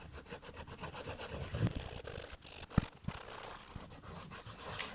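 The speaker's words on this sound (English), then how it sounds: "You can be pretty aggressive with the Suede eraser. It sort of just picks up the dirt off the surface of the skates" A suede eraser rubs dirt off Moxi suede roller skate boots in quiet, close, repeated scrubbing strokes, soft rasping bursts with a couple of sharper knocks in between.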